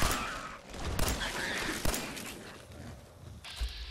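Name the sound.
tactical pistol gunfire in video game Fallout 4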